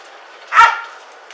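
A police dog barks once during an arrest in Los Angeles after a high-speed chase: a single sharp, loud bark close by over a low steady background hum.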